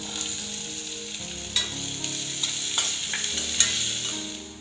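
Shallots and halved garlic cloves sizzle steadily in hot oil in a pan for a Chettinad brinjal curry, with a few soft stirring scrapes and clicks over the continuous frying hiss.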